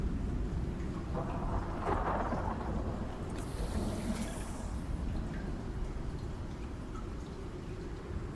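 Rumbling thunderstorm in the survival video game Icarus, a steady low roar of rain with a swelling rumble of thunder near the start, loud and continuous with no voices.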